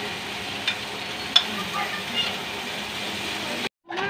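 Potatoes fry in a pan for a corned beef pie filling, a steady close sizzle with a few soft scrapes and taps of stirring, cut briefly by a sudden silence near the end.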